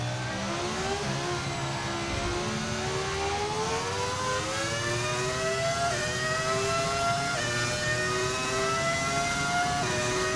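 A V10 Formula 1 car engine in the F1 25 racing game screams continuously at high revs, its pitch climbing through gear after gear with short dips at each upshift, loud and steady throughout.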